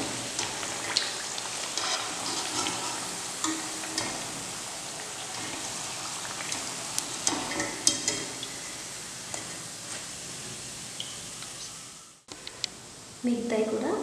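Rice flour vadas fry in hot oil, a continuous soft sizzle punctuated by occasional stirring taps, with a voice heard at times and a brief near-silent break near the end.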